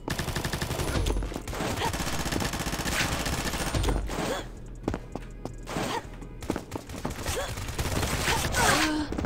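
Gunfire in the shooter game Combat Master, with rapid automatic bursts and scattered single shots crackling across the whole stretch, mixed with game footsteps and clatter at a moderate level.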